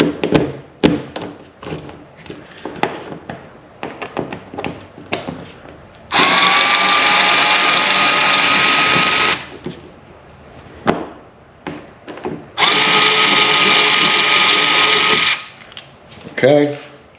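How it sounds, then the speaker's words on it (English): A power drill loosens two screws on a kayak paddle clip of an Old Town pedal kayak, two loud sustained whirring runs of about three seconds each, close by, between softer clicks and handling thuds. "I'm gonna just go ahead and loosen those two screws."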